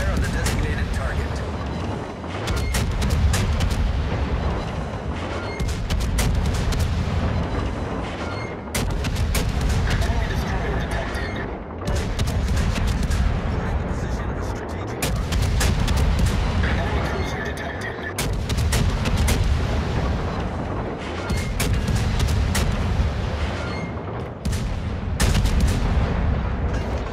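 Naval gunfire from a warship battle in World of Warships, recurring in heavy rumbling salvos of booms and explosions every few seconds throughout, loud and dense, with a low engine drone beneath and voices talking over it.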